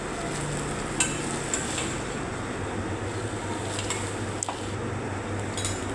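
Khandeshi khichdi ingredients sautéing in a pan, a steady soft sizzle with a faint hum underneath and a couple of light clinks from the stirring utensil.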